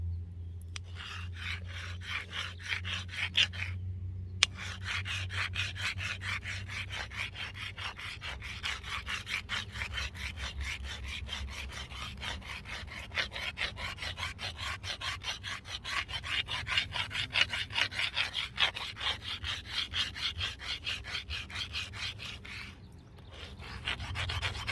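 A stone being filed against another stone to shape a primitive stone chisel produces steady, rhythmic rasping strokes that continue for nearly the whole span. There are only brief pauses, and nobody speaks.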